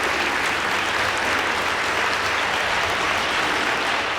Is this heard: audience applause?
yes